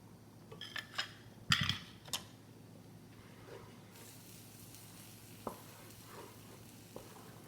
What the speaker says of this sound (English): I'm going to put in that remaining butter.